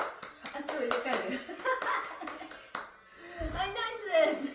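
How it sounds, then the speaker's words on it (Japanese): Hands clap during a stretching exercise in a rapid, uneven run of sharp claps lasting a few seconds, followed by a voice talking and some laughter. "この姿勢で拍手"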